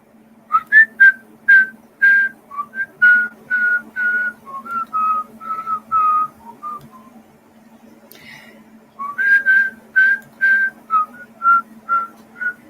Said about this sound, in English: look at that guy with no teeth whistle